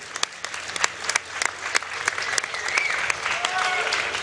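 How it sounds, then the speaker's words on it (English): Audience applause at an esports tournament, the 2011 Season 1 Worlds broadcast in Sweden, as a crowd claps steadily through the whole stretch, with sharp individual claps over a dense wash and some talk mixed in. "can I get a round of applause for yourselves for showing up here and being supportive?"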